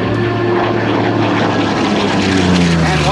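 A Yakovlev Yak-9 propeller fighter banks sharply past at an airshow, its piston engine roaring loud and steady with droning propeller harmonics that shift in pitch as it passes close by.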